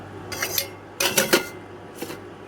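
Metal pot of rice set on a stove: three short clattering knocks of cookware, close and crisp, separated by brief pauses over a low steady hum.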